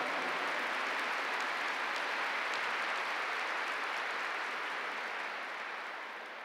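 A congregation at a Catholic Mass applauds continuously, a dense wash of clapping that stays loud throughout and eases off slightly at the end.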